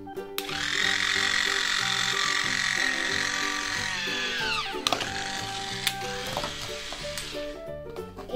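A toy screwdriver whirs steadily as it drives screws into a take-apart T-Rex dinosaur STEM toy, a buzzing motor hum lasting several seconds, then short stop-start bursts with light clicks nearby.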